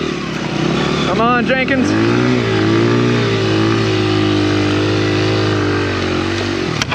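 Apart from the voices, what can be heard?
dirt bike engines revving while riding through snow and swamp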